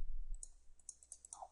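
Mouse clicks while working in Sridicad 3D piping design software, a quick run of several light, close clicks in an otherwise quiet room.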